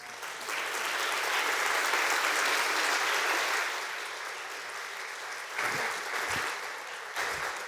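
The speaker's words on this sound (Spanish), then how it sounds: "Den un aplauso." Church congregation applauding during a Sunday Spanish-language service, a sustained burst of clapping from the room that eases off, then swells again in shorter bursts with some low thumps.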